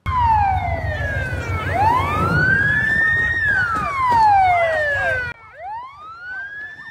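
A police car's wailing siren sweeps up and down loudly and close during a street chase of a taxi at night in Barnaul, with a second siren tone briefly overlapping near the end.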